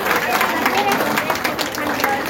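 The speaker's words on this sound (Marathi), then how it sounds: "टाळ्या वाजा, टाळ्या." A crowd claps together at an honouring ceremony for the birth anniversary of Mata Ramabai Ambedkar in Aurangabad. The clapping is dense and steady throughout, with crowd babble mixed in.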